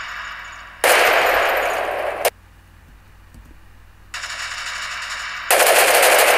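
Gunfire sound effect in a video edit: two long bursts of rapid machine-gun fire, loud and close, each cut off abruptly, separated by a quieter stretch with faint clicks.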